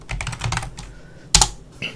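Quick clusters of keystrokes clatter on a computer keyboard nearby, ending with a sharper tap and a last soft keypress, with no talk.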